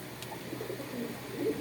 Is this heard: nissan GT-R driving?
no